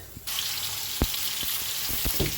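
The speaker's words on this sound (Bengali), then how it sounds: "খালি কড়াইতে তেলে নিচ্ছি রসুন কালো জিরে সাদা জিরে" Garlic, black cumin and cumin sizzle in hot oil in a wok, a steady bright frying hiss that starts abruptly and carries on with a few soft clicks and spatters.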